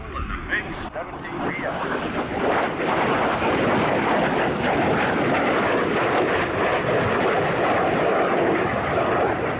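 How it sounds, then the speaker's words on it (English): A MiG-17 fighter jet flies aerobatics at an air show, its engine roaring loud and steady throughout, a broad sustained rumble and whoosh as it passes. "on weekends, Ball can be found flying at air shows across the country, where his daring aerobatic MiG-17 routines demonstrate"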